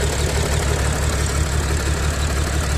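An Audi V6 engine idles roughly and shakily, a loud, close, low throbbing rumble with an uneven pulsing beat and a faint knocking texture, steady throughout with no voices.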